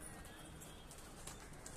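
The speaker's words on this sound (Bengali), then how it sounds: "পায়রা সব রেডি, সকাল সকাল সব খাওয়ার জন্য" Pigeons feeding on paddy grain on a rooftop, with close, steady soft pecking and shuffling, occasional faint coos, and constant background noise throughout.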